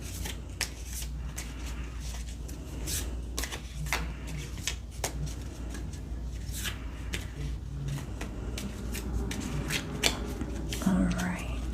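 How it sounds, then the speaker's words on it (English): A tarot card deck is shuffled close up in a quiet room, a long run of quick papery riffles and soft taps with a faint voice murmuring near the end. "Deck 1 shuffled."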